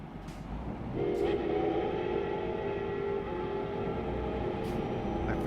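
A train passes in a snowy area, its engine rumbling steadily while a horn sounds for about two seconds at moderate distance.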